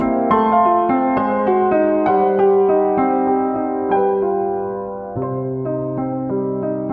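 Solo piano plays the hemiola passage from John Field's Nocturne No. 2, a flowing run of sustained notes with rich overtones, close and clear, the phrase shifting lower near the end.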